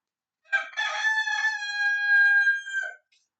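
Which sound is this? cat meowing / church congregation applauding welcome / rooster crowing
rooster crowing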